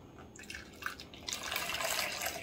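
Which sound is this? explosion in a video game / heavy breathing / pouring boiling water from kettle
pouring boiling water from kettle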